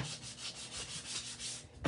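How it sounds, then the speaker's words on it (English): Steady dry scraping of sandpaper rubbing back and forth over painted wood, close and continuous, with a slightly louder stroke at the end. "I'm just sanding it to get the grain down."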